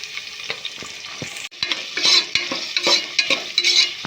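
Onions, green chillies and curry leaves fry in hot oil with cumin, a steady close sizzle broken by repeated scraping stirs of a spoon against the pan, with one brief dip before the frying swells louder.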